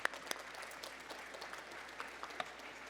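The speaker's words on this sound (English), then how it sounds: "huge round of applause for those folks" Steady applause from an audience, a dense patter of many hands clapping at a moderate, fairly distant level with no voices over it.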